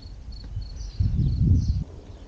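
Faint, high crickets chirp intermittently in the background, heard over a low rumbling wind-like noise outdoors at a camper park on the Spanish coast at Isla Cristina.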